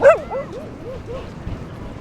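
A dog in the coastal town of Bude, Cornwall, lets out a single sharp yip followed by a few quick, rising whimpering yelps, fairly close and fading off over about two seconds.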